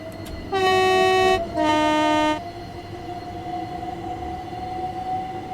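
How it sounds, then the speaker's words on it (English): A Southeastern Electrostar electric train in Train Sim World 3 sounds two long horn blasts, the second slightly lower, over a steady humming motor whine that continues afterward. "we now have the London to Brighton Electrostar sounds"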